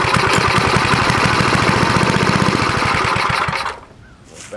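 Vintage snowblower engine on its first pull-start attempt, running with a loud, rapid, steady chugging for about three and a half seconds before cutting out, followed by quiet.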